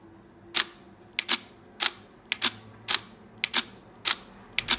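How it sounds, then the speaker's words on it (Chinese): A Nikon D5 DSLR with an ERR fault fires its shutter while the reflex mirror jams midway. About eight sharp mechanical double clicks repeat in a steady rhythm, close and loud, with nothing else around them. "按快门的时候呢，反光板卡在中间"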